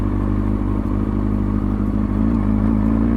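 Motorcycle engine during slow-speed riding, a loud, steady low thrum with a pulsing, slightly rough rhythm and faint clattering, holding nearly constant throughout.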